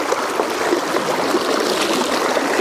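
A river near a village in the Nainital area of Uttarakhand produces a steady, continuous rush of flowing water that stays even in level throughout, with no voices.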